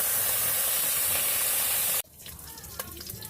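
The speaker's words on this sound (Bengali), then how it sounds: "মাছটা এবারে ভাজিয়ে নিই" Small fish sizzling in hot oil in a kadai, a loud, dense frying hiss for about two seconds before it cuts off, followed by quieter kitchen clatter.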